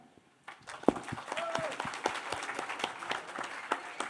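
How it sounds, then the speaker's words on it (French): An audience applauds at a presentation event: a steady patter of clapping from a nearby crowd that starts after a brief pause and holds through the end, with a voice speaking over it at times. "on peut l'applaudir"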